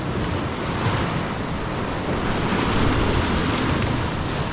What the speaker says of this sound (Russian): Красота, да, когда море волнуется, это особый кайф, согласны?